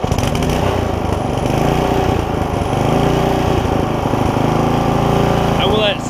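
An old barn-find tiller engine idles loudly and close by, a steady rapid putter holding throughout, with a brief voice near the end.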